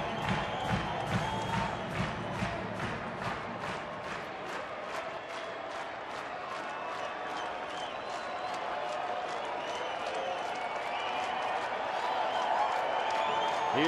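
A large baseball stadium crowd of more than 43,000 stands, cheering and clapping in a steady roar, with rapid applause claps and whoops over a dense, sustained wash of noise.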